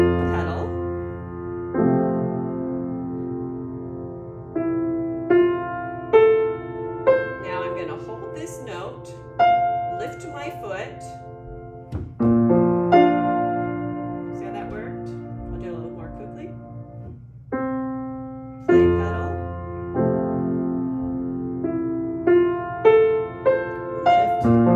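Piano playing Schumann's Träumerei, Op. 15 No. 7, with sustain pedal: slow, soft lyrical phrases with ringing, blended chords that swell and fade, pausing briefly around the middle before resuming, heard alone without talk.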